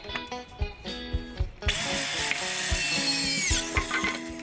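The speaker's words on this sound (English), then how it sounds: "Here's our final cut on this soon-to-be angled cross piece," A saw makes a final cut through a cedar fence picket as an angled cross piece, with a few short tool knocks at first, then a steady loud buzzing cut for about three seconds before it winds down.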